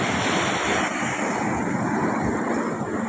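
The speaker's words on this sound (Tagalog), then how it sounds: "Dito kasi sa ilog, hindi na gano'ng kalaki ng alon." Small river waves lapping with steady broadband wash and some wind noise, continuous and fairly loud with no voices.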